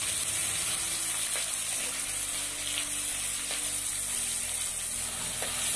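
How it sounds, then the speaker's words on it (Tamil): A ginger, garlic, pepper and cumin paste with curry leaves sizzles steadily in hot oil for a Tamil-style crab curry, a loud, continuous frying hiss with faint stirring scrapes throughout. "நம்ம அரைச்சி வச்சு போட்ட அந்த இஞ்சி பூண்டு சீரகம் மிளகு அந்த பேஸ்ட்டும் கருவேப்பிலை பூண்டு இதெல்லாம் நல்லா மணமாக வதங்கிட்டு இருக்கு"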